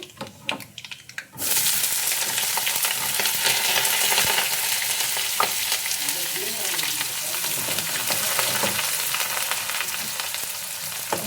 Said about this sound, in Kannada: ಗೋಲ್ಡನ್ ಬ್ರೌನ್ ಬರೋವರೆಗೂ ಎಣ್ಣೆಲಿ ಫ್ರೈ ಮಾಡ್ಕೋಬೇಕು ಈರುಳ್ಳಿನ